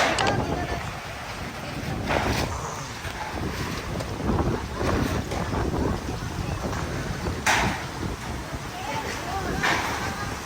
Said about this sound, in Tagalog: Tingnan mo ang hangin.